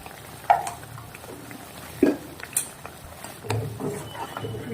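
Spoon stirring a Kathiawadi-style vegetable curry (shaak) with salt and garam masala in a pot, a few scraping knocks against the metal and a soft wet mixing sound, close and fairly quiet, with no talking.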